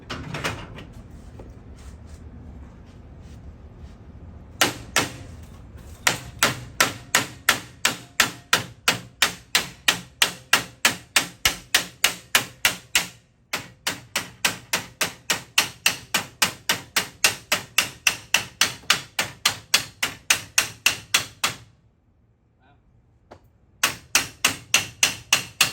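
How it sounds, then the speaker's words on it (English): A hammer beats garage door rollers into place in long runs of sharp, evenly spaced metallic blows, close and loud, with short pauses between bursts. "Now we got to do that thing with the beating of the hammer and the slamming and the loud noises."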